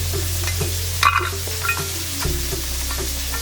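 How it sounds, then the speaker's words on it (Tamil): Onions frying in a pan for vegetable fried rice, a steady low sizzle that runs the whole time, with brief stirring and utensil clinks partway through and no talk. "வெங்காயம் இங்கே போட்டிருக்கோம். வெங்காயம் வெந்துட்டு இருக்கட்டும்."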